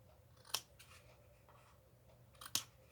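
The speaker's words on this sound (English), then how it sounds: "And then we'll snip off the tails." Scissors snip the ribbon bow tails on a handmade lavender thank-you card, two crisp, separate cuts about two seconds apart, close but faint against near silence.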